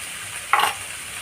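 Cabbage masala frying in a pan is stirred once, a short close scrape over a constant sizzle, with nothing else in the background.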